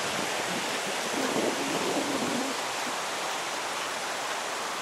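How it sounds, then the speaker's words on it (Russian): A very dirty river flows steadily with a broad, constant rushing wash, close and even throughout, with a faint low rumble midway and no talk. "Очень грязная река."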